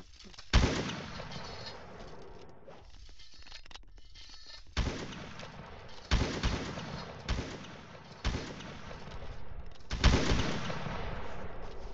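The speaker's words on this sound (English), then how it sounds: "Or it's gonna be like this, where it's just constant crossfire." Constant crossfire in a video game battle: sharp gunshots and heavy booming reports ring out every second or two over a steady rumble of distant fire, moderately loud.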